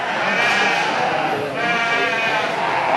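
Corriedale sheep bleat loudly and close by in a livestock show ring at a sale barn. Long, wavering cries overlap one another, with a murmur of people in the background.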